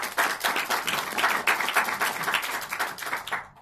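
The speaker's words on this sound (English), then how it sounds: "Let's give him a big round of applause." Audience applause for a speaker at a presentation event, a steady dense crowd clapping that stays loud and continuous before cutting off abruptly at the end.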